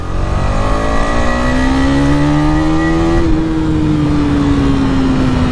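A 2021 KTM Duke 250 BS6 motorcycle engine revs loud and close, climbing steadily in pitch, then easing back down, with no talk over it.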